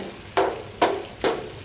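A spoon stirs prawn gravy in a hot pan three times at an even pace, each stroke a sharp scrape followed by a sizzle that fades. No voices are heard.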